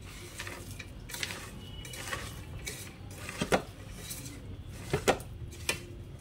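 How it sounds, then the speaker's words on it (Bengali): Boiled potatoes being mashed and mixed in a bowl, with soft steady scraping and stirring under repeated clinks of a utensil against the bowl's side, close and fairly quiet. "এবার ভালো করে একদম পুরো মিশিয়ে মেখে নিতে হবে"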